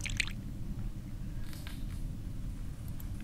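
A chemical is poured in a photo-developing scene in the horror game The Last Door: brief soft squishy drips early and again mid-way, over a steady low rumble of background ambience.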